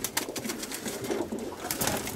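Young roller pigeons, twenty-three birds in a box, coo softly and continuously at close range, faint and low.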